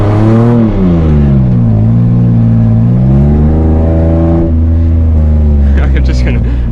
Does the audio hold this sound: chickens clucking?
no